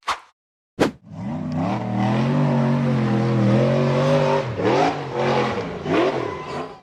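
An off-road 4x4 buggy on a steep rocky hill climb revs hard after a couple of sharp knocks, its engine droning loud and close with rising and falling pitch as it labours upward.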